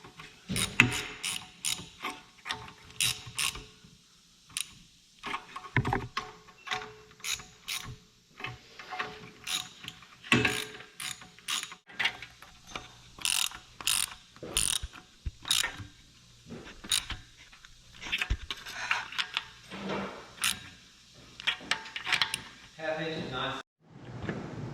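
Quick clicking strokes of a hand ratchet snug down rocker shaft bolts on an engine, repeated in short bursts over many seconds, close and moderately loud, with occasional talking between the runs.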